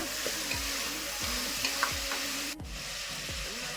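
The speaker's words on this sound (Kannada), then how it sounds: "ಒಗ್ಗರಣೆ ಜೊತೆ ಫ್ರೈ ಮಾಡ್ಕೊಂಬಿಡೋಣ" Cut potato and brinjal fry with a tempering in a pan for sambar, giving a continuous soft sizzle with low, rhythmic stirring scrapes repeating close by throughout.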